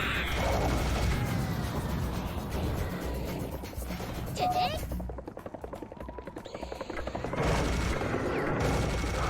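Rapid gunfire and mechanical clatter from a shotgun in the video game Serious Sam Fusion, dense bursts of shots that thin out midway into a stuttering rattle before the loud firing resumes, with voices mixed in.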